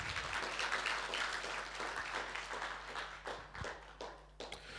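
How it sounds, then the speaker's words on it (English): An audience claps for people standing up at a gathering, a quiet patter of many hands that thins out and trails off into scattered claps. "Give them a round of applause for just standing up."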